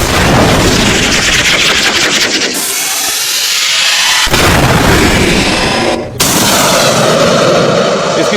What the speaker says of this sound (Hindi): इसे नाग मिसाइल कहते हैं।